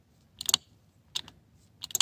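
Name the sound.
relay clicking on Vermeer BC1000X ignition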